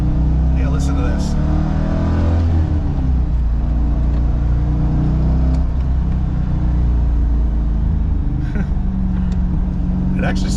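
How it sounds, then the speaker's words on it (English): Stock exhaust of a C5 Corvette Z06 rumbles loudly up close with a deep, steady idle burble and several throttle blips, someone talking over parts of it. "I'm impressed with the stock exhaust of this thing."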